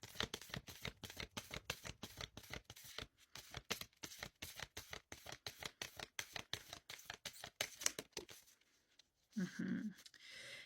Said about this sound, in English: I want to pull a card for their energy.